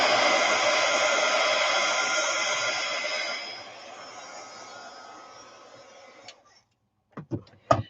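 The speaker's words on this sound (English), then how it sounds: "I don't know if it will help if I hit that with my heat gun or not." A heat gun blows steadily on a handmade journal cover, a broad continuous roar that softens partway through and then cuts off, followed by a few sharp knocks and clicks.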